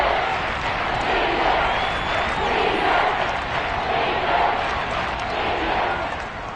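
A large football stadium crowd in Kansas City roars steadily for several seconds, a dense sustained wall of noise with no clear breaks.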